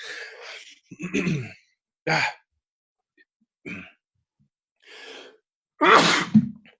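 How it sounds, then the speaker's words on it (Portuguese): Several sharp breathy bursts with gasps in between, ending in a loud, close sneeze. "É espirro, não é tosse."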